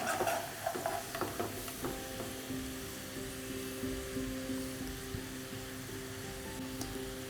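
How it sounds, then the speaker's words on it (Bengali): Potatoes frying in oil in a wok for an aloo bhindi dish give a steady, moderate sizzle, with a few scraping stirs near the start. "এবার একটু সময় নিয়ে এটাকে ভালো করে ফ্রাই করে নিন।"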